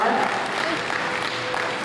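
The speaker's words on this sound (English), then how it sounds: "Now have a round of applause." Audience applause at a presentation event, a steady spread of clapping with a voice speaking over it, fairly constant in level for the short stretch.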